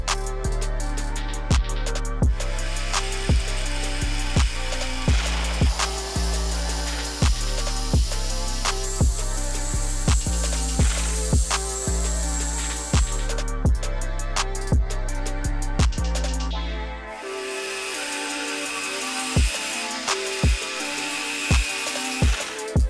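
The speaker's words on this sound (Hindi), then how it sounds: "अब यहाँ पर हम वापस से ग्राइंडर लेंगे और इसके ऊपर कट लगाएंगे।" An angle grinder cuts into metal while making an adjustable wrench, a steady loud whine with repeated sharp ticks throughout, briefly cutting out near the end before resuming.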